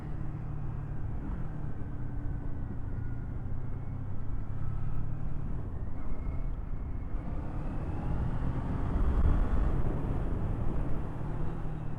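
A 2024 Kawasaki Eliminator 500SE motorcycle engine revs eagerly while riding, a steady drone under heavy wind rush that swells louder toward the end.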